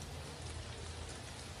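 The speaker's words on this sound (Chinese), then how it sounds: "哎，下雨了，这咸阳。" Rain falling steadily in Xianyang, a dense even hiss of drops on surfaces heard alone and fairly faint over a short stretch.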